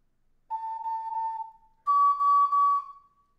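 An ocarina plays two held notes of the Gravity Falls theme, a clear pure tone that steps up in pitch for the second note, close and solo.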